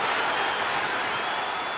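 A football stadium crowd roars and appeals for a handball during a Maritzburg United versus SuperSport United MTN8 semi-final, a steady, dense wash of noise that holds loud and unbroken throughout.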